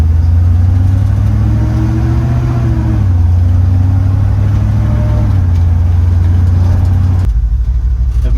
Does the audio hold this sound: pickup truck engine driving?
yes